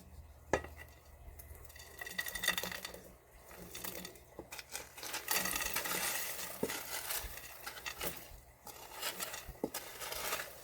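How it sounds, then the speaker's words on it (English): Breadcrumbs are stirred into a large pot of apple cranberry stuffing, making soft scraping and clinking of a spoon against the pot, irregular and close but quiet. "I can mix the breadcrumbs right into it"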